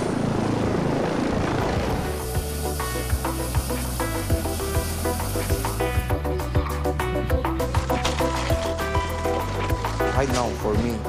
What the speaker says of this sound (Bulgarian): Екипите на спешната помощ в момента карат с хеликоптер пациент